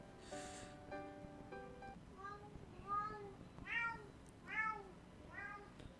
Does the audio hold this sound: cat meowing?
yes